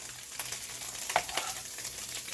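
Onions stirred as they fry in a pan for a low-carb cabbage roll casserole, a steady soft sizzle with brief scraping strokes of the utensil, fairly quiet and close.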